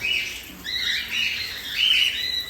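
Pet cockatiels bathing in hot weather, giving several shrill, overlapping squawks and chirps at close range over faint background noise.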